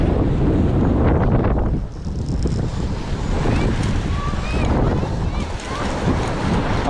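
Strong wind on the shore of Lake Champlain roars and buffets the microphone steadily throughout, with a brief lull near the two-second mark.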